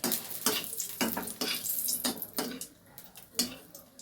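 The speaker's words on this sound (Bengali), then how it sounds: "দেখো, লঙ্কাগুলোকে ভালো করে কালো করে ভেজে নিতে হবে।" Green chilies fry in hot oil in a pan, with a soft sizzle under sharp, evenly spaced scraping and stirring strokes about every half second.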